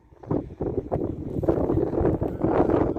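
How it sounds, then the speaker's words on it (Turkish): Strong gusting wind in a snowy highland pasture during a blizzard buffets the microphone, rumbling and roaring in uneven surges that grow louder toward the end. "Yaylada şu anda rüzgar var, tipi var arkadaşlar."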